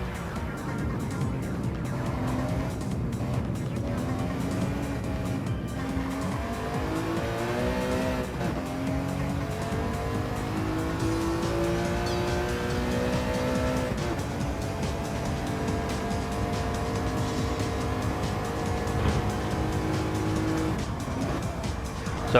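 A race car is driven hard in Gran Turismo 7 on a twisty circuit, its engine note rising and falling steadily through gear changes, with tire squeal, continuous and loud throughout.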